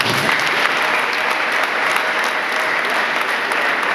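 A church congregation breaks into loud, dense applause, a continuous wash of many hands clapping at once that holds steady from start to finish.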